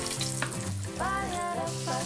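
Cheese sizzling and frying in a pan, a steady crackling hiss up close, with a few faint scraping or stirring noises.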